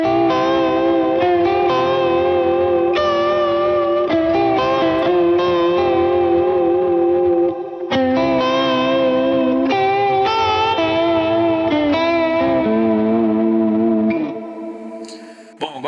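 Electric guitar through a Juliana pedal set almost fully to vibrato with a touch of chorus and a longer reverb, sustained wavering chords ringing continuously with a brief break midway and fading at the end.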